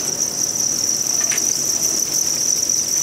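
Thai crickets at a cricket farm keep up a dense, steady high-pitched chirring drone at close range, unbroken from start to finish with no voices.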